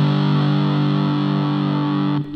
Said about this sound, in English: I put a distortion in here